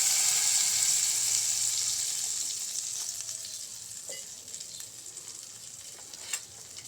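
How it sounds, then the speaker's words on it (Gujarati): Stuffed brinjal curry sizzling in a pan, with a bright hiss that gradually settles after water is poured in, leaving softer bubbling and a few light clinks. "હવે થોડું પાણી ઉમેરી દઈશું."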